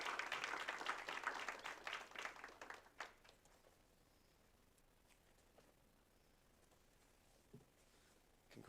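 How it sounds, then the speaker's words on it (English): Audience applause for an award winner at a Board of Education meeting, loud clapping for about three seconds before tapering off into faint room noise. "so let's give her a round of applause"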